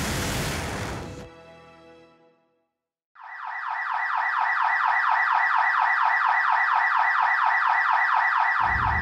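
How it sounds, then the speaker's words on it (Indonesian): After a short burst of noise and a moment of silence, a loud electronic fire alarm starts and pulses rapidly and steadily for several seconds. "suara alarm kebakaran menguing-uing nyaring dari lantai atas gedung"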